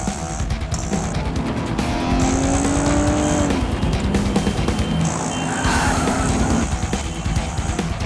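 In a chase scene from an action thriller, a car is gunned away fast, its engine revving hard under squealing, skidding tires, loud and close throughout.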